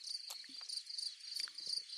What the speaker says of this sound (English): I feel like every time I go outside, it's crickets.